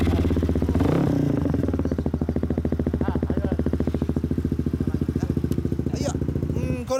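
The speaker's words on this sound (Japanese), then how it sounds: "あの、ごめん、エンジン音聞かせて。" Custom Honda Ape 100 motorcycle with a stock engine and an aftermarket muffler, idling close up: a loud, steady single-cylinder putter with a fast, even rhythm, briefly blipped near the start.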